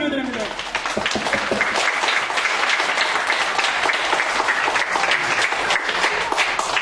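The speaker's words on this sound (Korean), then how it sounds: "하나님께 영광의 박수 올려드립니다." Sustained applause from a congregation at a Friday prayer meeting at a Korean church for the blind, dense and steady throughout after a brief opening sound.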